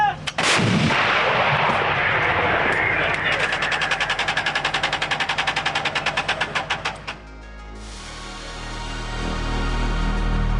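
A 2S7 Pion 203 mm self-propelled gun fires a 110-kilogram shell: one huge close blast, then a long rattling, ringing decay that fades into a rising rumble.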